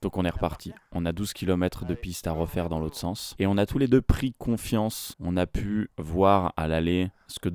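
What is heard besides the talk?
None of the usual background noises is heard.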